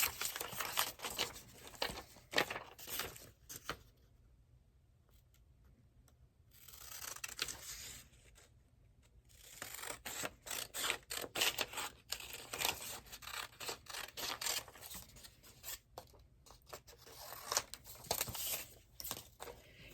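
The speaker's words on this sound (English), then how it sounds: "I'm just going to go ahead and cut out these pieces that need to be pieced together." Scissors snipping out printed paper pattern pieces for doll clothes, close-up with repeated quick blade closes and paper rustling, clustered in bursts with a quieter pause midway.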